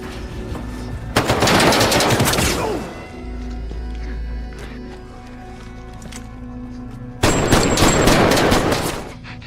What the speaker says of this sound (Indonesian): disitulah Nick berhasil menembaknya